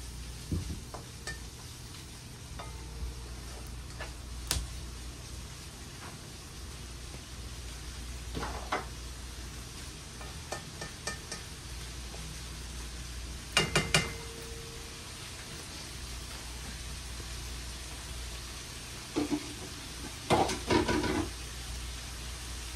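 Bacon pieces browning in a pot with no added fat, for a lentil soup, giving a faint, steady low sizzle with occasional light clinks and knocks of stirring.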